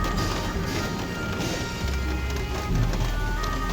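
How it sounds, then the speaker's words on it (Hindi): Steady rain falling in Karachi while the sun shines, pattering on surfaces, a dense hiss of drops continuing throughout with some low rumbling underneath. "धूप में बारिश।"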